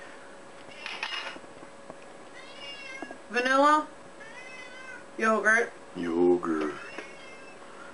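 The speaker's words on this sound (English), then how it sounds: "There's a comment from the kitty gallery." A house cat meows several times, close and fairly loud, during a demonstration of a VitaMix 4000 blender, with people talking in between the meows.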